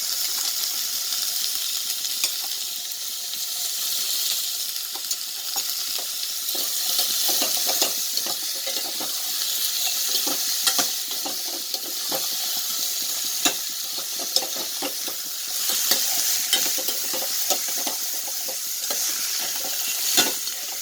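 Half a kilo of onions sautéing in a pan for a fenugreek kuzhambu, a steady close sizzle under repeated scraping and stirring clicks, with no voices.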